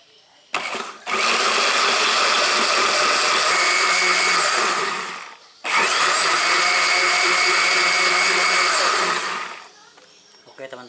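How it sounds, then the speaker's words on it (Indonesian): An electric blender whirs loudly as it crushes swiftlet nest with water, running in two long bursts separated by a brief pause, with a high steady motor whine. "kita blender sampai hancur teman-teman ya"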